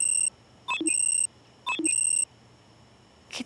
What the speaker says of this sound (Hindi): कितने अलार्म लगाए हैं इसने सुबह उठ के क्लास आने के लिए